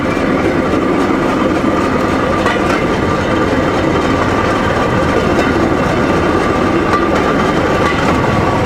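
A rail draisine rolls along a narrow-gauge track at Alapaevsk, giving a steady loud rumble of wheels on rails with faint rhythmic clicking and engine drone throughout, with no pauses.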